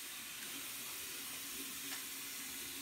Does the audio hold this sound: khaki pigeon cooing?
no